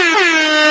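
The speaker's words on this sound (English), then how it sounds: "I got to give air horns." A loud, bright air horn sound effect blasts alone in one sustained, brassy tone with a slight pitch bend at the start.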